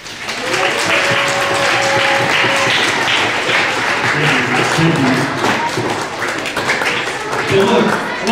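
An audience at a school diversity assembly applauds in a sustained round of clapping that stays dense and steady from start to finish, with crowd murmur beneath it.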